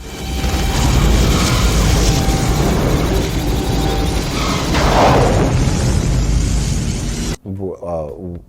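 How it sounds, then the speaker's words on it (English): The starship Enterprise fires a torpedo in Star Trek: The Motion Picture, a loud, dense sci-fi blast with mechanical whirring that swells and fades over several seconds before a voice speaks briefly at the end. "that's the only time the Enterprise fires a weapon in the whole film"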